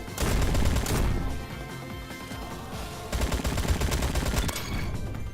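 Sustained automatic fire from a revamped AK47 in Roblox Bad Business, loud continuous bursts with a brief easing midway before the firing picks up again, no talk.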